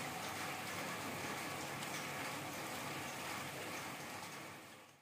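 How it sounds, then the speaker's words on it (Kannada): Rain falls steadily outside, a soft continuous wash of drops that holds even for about five seconds and eases slightly at the end, with no talking. "ನೋಡಿ ಹೊರಗಡೆ ಮಳೆ ಎಷ್ಟು ಚೆನ್ನಾಗಿ ಬರ್ತಾ ಇತ್ತು ಅಂತ."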